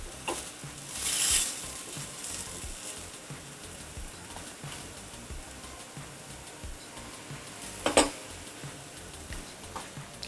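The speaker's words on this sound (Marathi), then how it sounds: "आता हे पुन्हा आधीच्या साईडनी पुन्हा थोडंसं भाजायचं आहे" A tomato omelette fries in a pan on a low gas flame, giving a quiet, steady sizzle with a few brief scraping and clinking touches from a utensil, and no one speaking.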